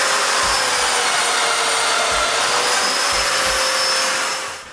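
Festool Domino joiner cutting mortises in wood, a loud steady high-pitched motor whine with a few low thumps as the cutter plunges, running continuously before trailing off at the end.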